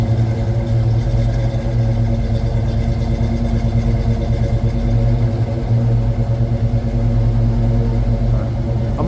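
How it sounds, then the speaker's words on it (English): A 1986 Ford Mustang GT Foxbody with a T-top and Flowmaster mufflers idles with a loud, steady, throbbing exhaust rumble, close up and even throughout. "Sounds like a Foxbody with flow masters."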